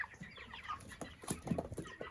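Chickens clucking inside a chicken house on a small farm, a steady stream of close, overlapping clucks and short calls from several birds.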